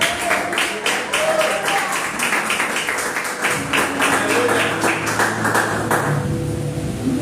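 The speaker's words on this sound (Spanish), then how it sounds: "regálenle una ofrenda y aplauso de palmas al Señor" Congregation applauding and clapping hands in praise at a Spanish-language church service, a dense, loud, steady wash of many hands that holds for several seconds before thinning out near the end, with voices mixed in.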